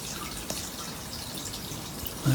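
Water trickling and splashing as it is poured into a Lister D stationary engine, a soft, continuous pour at low level with a faint knock near the end.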